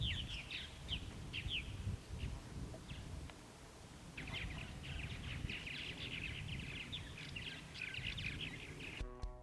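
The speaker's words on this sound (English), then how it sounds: "These birds are kind of having some sort of spat," Birds squabbling outdoors, with bursts of quick, sharp chirps in scattered clusters, fairly faint against a low rustling background.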